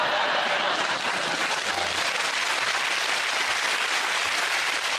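A studio audience at a comedy panel show bursts into loud, dense applause that continues unbroken throughout, close and full, with some cheering mixed in.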